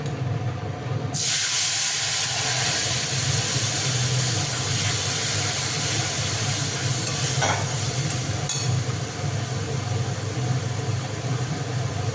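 Spices hitting hot oil in a home Bengali kitchen burst into a loud, steady sizzle after a quiet first second, frying continuously with faint stirring scrapes underneath and no voices.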